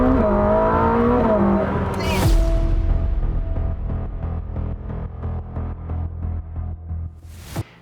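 A Ferrari SF90XX hybrid hypercar accelerates at half throttle, the engine note climbing through the revs, then sharp bursts at the shifts and a throbbing, pulsing drone as it pulls hard, loud and close.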